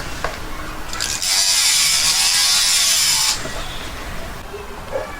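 A rotary tool gently grinds a plain band ring, giving a bright, steady high-pitched whine for about two seconds and then stopping, with light handling noises before and after.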